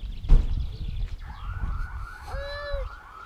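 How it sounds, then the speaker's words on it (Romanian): A police siren wails in the distance, its rising and falling tone sweeping over outdoor street noise after a brief thump. "Auzi poliția."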